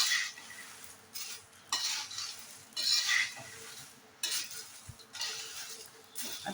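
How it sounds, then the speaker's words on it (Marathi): Corn poha chivda frying in oil, stirred with a slotted spoon: repeated bursts of scraping and rattling against the pan over a soft sizzle, close and moderately loud. "हा झारा घेतलाय पहा झाऱ्याने ढवळायचं"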